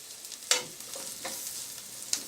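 Onions and garlic fry in a skillet with a steady crackling sizzle, broken by a few sharp scrapes or clinks from stirring near the start and end.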